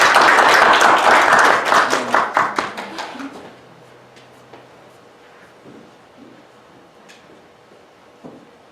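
Congregation at a church Sunday service clapping in welcome, a dense burst of applause that thins out and fades over about three seconds, followed by quiet room sounds.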